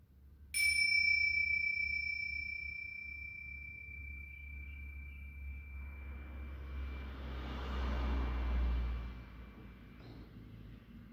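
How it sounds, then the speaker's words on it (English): Tibetan chimes struck once at the opening of a yoga session, a bright sustained ring that decays slowly over several seconds, followed by a soft low rumble and hiss in the quiet room. "Today I will open the session with chimes and one chant of Om. So these are my Tibetan chimes."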